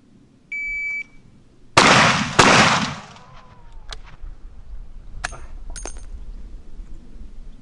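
A shot timer gives a short electronic beep during a firearm shooting drill, followed by loud, sharp gunshots close by, then fainter rustling and a few quick clicks and metallic pings.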